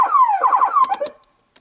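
Street Thunder emergency siren on a truck, a fast descending electronic yelp that sweeps down and breaks into short bursts before cutting off abruptly, loud and close.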